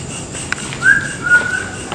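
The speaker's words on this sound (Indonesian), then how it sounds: "Aduh, jangan dong bersiul" At an abandoned theme park in Bali, a person whistles one faint, thin tone that rises and then holds for under a second, over quiet hiss with no talk.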